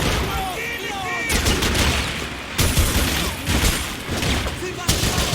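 Gunfire in a Max Payne 3 police barracks fight: sustained loud bursts of shots that start and stop abruptly, mixed with shouting voices.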